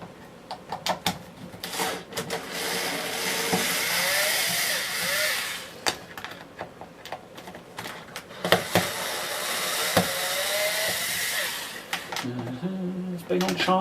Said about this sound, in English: see if this power screwdriver will work for me